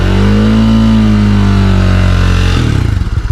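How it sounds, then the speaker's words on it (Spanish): A Bajaj Dominar 400 UG motorcycle engine held at high revs around 5000 rpm, a loud steady roar that drops abruptly near the end into a lumpy, pulsing idle. "Y así suena mi motocicleta. En la parte superior voy a acelerar a 5000 revoluciones."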